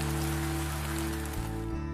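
Rain falls steadily in a cartoon as a soft, even hiss, with sustained tonal music underneath throughout.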